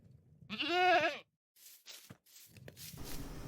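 A goat in Minecraft lets out one clear, wavering bleat up close, followed by faint footsteps and soft rustling.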